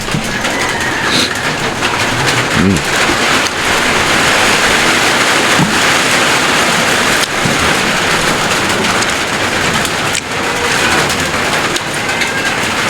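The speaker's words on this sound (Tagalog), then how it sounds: "Ayan naman ang ulan mga idol." Heavy rain pours down in a steady, dense roar that stays loud and unbroken throughout, with no voices.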